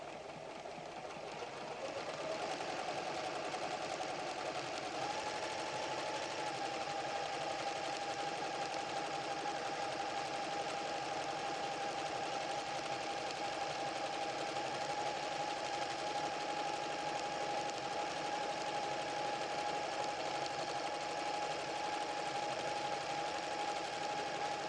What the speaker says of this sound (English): Sew a row just as set by the machine.